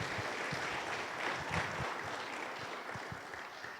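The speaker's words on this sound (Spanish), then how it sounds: "Démosle palmas al Señor." A church congregation claps for the Lord, a faint, fairly steady patter of hands sounding somewhat distant and soft throughout.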